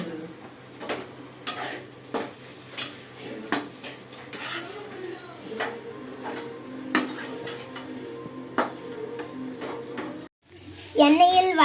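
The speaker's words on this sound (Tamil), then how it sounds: "கொஞ்சமா சிக்கன் மசாலா போட்டு இப்போ எண்ணெயிலேயே வதக்கணும்." Potatoes with chicken masala are sautéed in oil in a pan while a spoon repeatedly clinks and scrapes against the metal in an uneven rhythm, with a faint sizzle beneath, close by, and a voice heard at times.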